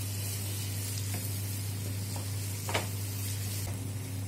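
Coarse sesame and roasted gram paste being stirred into red chilli thecha in a pan, with a steady low sizzle and a few soft scraping spoon strokes over a constant background hum.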